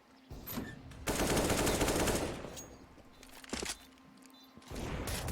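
USP pistol fire and other gunfire in Counter-Strike: Global Offensive during an esports match crackle in dense bursts, with a long loud volley in the middle and shorter sharp shots around it, and no talk.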